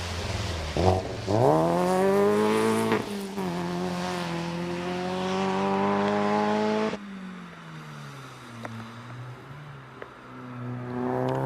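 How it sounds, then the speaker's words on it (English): A Renault Sport Twingo race car at the Prescott hill climb accelerates hard nearby, its engine rising through several gear changes, then fades to a lower steady drone as it pulls away, with no talking. "Neat little car, the Twingo."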